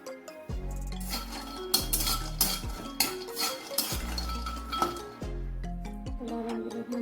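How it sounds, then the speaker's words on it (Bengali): Peanuts are stirred in a wok, and a metal utensil clanks and scrapes against the pan in an irregular run of close, ringing clinks with short pauses between them. No one speaks. "কড়ার মধ্যে দিয়ে দেবো বাদাম, চিনা বাদাম। বাদামগুলো একটু নেড়ে নেব।"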